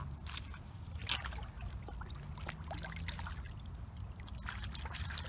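Water trickles and splashes as a freshly caught fish is rinsed off outdoors, a steady wet pouring and sloshing with small irregular drips over a low background rumble, no talking.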